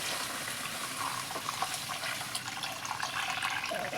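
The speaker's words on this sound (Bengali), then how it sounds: "দুধগুলো ঢেলে দেবো।" Coconut milk being poured into a pan for egg korma, a steady close liquid splashing and trickling that runs evenly throughout, with no talk.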